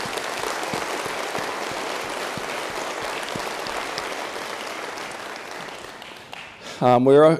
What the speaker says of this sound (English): Let's give them a round of applause, because they worked so hard on this.